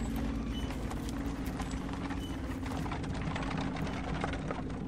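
Two horses pull a wooden cart, their hooves producing a steady, rhythmic clip-clop over a constant low rumble, heard alone and fairly close.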